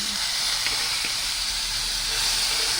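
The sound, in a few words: potatoes frying in oil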